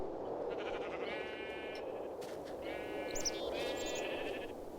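Two short bleats from Minecraft Tekkit sheep, nasal and quavering, heard over a steady low background hum with faint in-game clicks between them.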